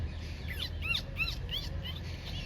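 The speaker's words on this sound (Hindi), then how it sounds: "तो पैराकीट बोल रहा है" A parakeet gives a quick series of sharp, harsh chirping calls, five or so notes in a burst, moderately close against a quiet outdoor background with no voices.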